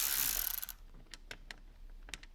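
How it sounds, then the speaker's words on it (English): A T30 Torx bit turns out grab handle bolts on a 2021 Ford Bronco, giving a burst of mechanical noise followed by a few sparse, faint ratcheting clicks at close range. "We're going to use a T30 Torx bit to get these 4 bolts out."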